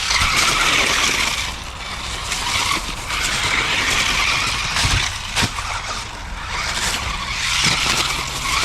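A Tamiya DF02 radio-controlled car runs on a track with its high-pitched motor whine, and its tires skid and squeal through repeated slides, loud and close, with no talking.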